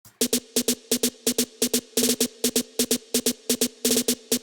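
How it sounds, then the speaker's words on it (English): A tight, crisp snare hits out a trap rhythm, sharp cracks in quick irregular groupings with brief rolls, loud and dry with nothing else playing. "the second snare drum is going to be this trap snare drum"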